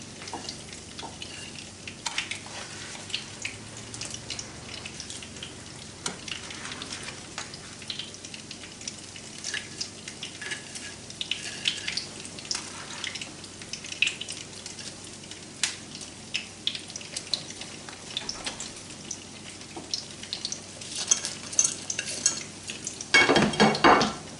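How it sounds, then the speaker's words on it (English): Cube steak simmering in gravy in a frying pan gives a steady, soft sizzle and bubbling with occasional stirring and utensil clinks, holding close and even before a louder burst of sizzle at the very end. "So I'm just going to put my cube steak back in the gravy."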